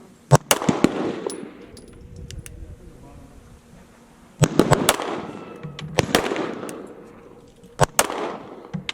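A CZ 75 D PCR Compact pistol fires sharp, loud shots in irregular clusters, each followed by reverberating echo, with people speaking faintly between shots.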